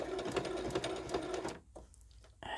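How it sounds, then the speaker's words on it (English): A sewing machine runs a back stitch through bulky vinyl on a project bag, whirring close and fast for about a second and a half before stopping, followed by faint clicks and a brief restart. "I will just do a back stitch"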